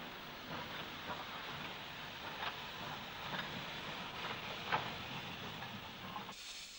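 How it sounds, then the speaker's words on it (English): Woolwich Mogul locomotive number 379 hauling the Galway carriages away from Mullingar station in Ireland, a steady rolling rumble with hissing steam and faint rail clicks, continuous and moderately distant before cutting off abruptly near the end. "The carriages for Galway leave Mullingar, headed by Woolwich Mogul, number 379."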